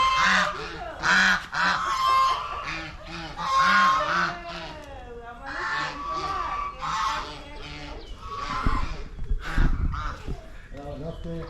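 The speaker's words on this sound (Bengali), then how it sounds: "আর এখানে প্রচুর হাঁস রয়েছে, প্রচুর হাঁস।" Geese honking near a beach area in Goa, several loud repeated honks close by, overlapping one another in irregular bursts, with people talking at times.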